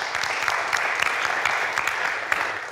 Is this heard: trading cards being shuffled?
no